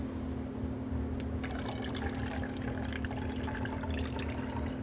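Water rushes and trickles steadily through the plumbing of a water-cooled Sharky 4 LDMOS amplifier as the cooling system is recharged, a continuous close liquid flow with a low steady hum underneath and no talking.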